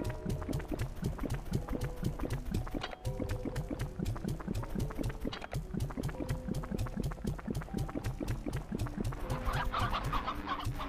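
Slimes in Slime Rancher eat their hen food: a continuous stream of game clucking and squawking mixed with wet, bubbling gulps. The sounds repeat quickly and steadily at moderate level, with no talk.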